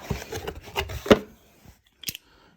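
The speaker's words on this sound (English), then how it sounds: "I'm just gonna take out my knife, cut that bad away real quick." A knife slicing open the packaging of a Maxita EC-27 hot foil stamping machine during unboxing, with a burst of close rustling and scraping, a sharp cut, then brief quiet and a final rip.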